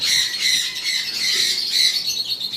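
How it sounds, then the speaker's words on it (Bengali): Male cockatiels on a bird farm squawk their mating calls in a dense, continuous chorus of shrill, overlapping chirps that carry close and loud without pause. "এই যে ম্যাটিং পোল দিচ্ছে প্রচুর পরিমাণ, ফুল মুডে আছে"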